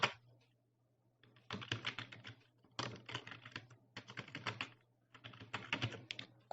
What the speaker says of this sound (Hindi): तो यहाँ पे मैं कुछ भी टाइप कर देता हूँ।